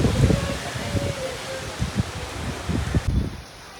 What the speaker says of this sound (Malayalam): അടിപൊളി കാറ്റ് എൻ്റെ പൊന്നേ.